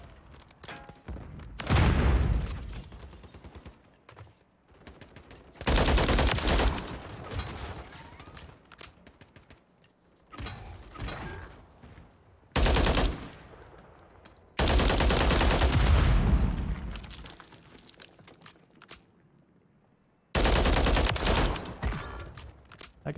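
Bursts of rapid gunfire and fusillades in a shooter video game, loud and alone, coming in several separate volleys with quieter gaps between them.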